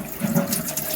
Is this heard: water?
yes